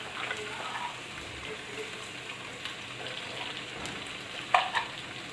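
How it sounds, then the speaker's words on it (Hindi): Chicken pieces frying in a karahi for charsi karahi, giving a steady soft sizzle and crackle throughout with a brief louder spatter near the end. "अब इसको हम अच्छी तरह से फ्राई करेंगे गोश्त को।"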